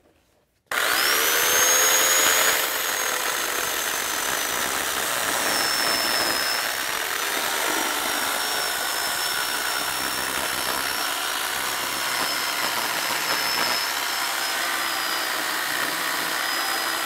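An electric chainsaw cuts through a log into wood turning blanks, with the chain passing into plywood underneath. A loud, steady, high-pitched motor whine starts abruptly and runs continuously close up.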